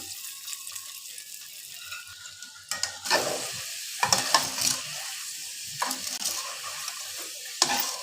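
Potato french fries crackle and sizzle in hot oil, a continuous close hiss that swells in bursts as pieces are dropped in and stirred, with no talk.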